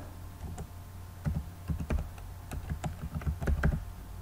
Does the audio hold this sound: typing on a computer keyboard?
yes